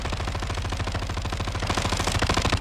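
Sustained automatic gunfire in Call of Duty Modern Warfare II, loud rapid bursts of rifle shots firing continuously with no pause, dense and close.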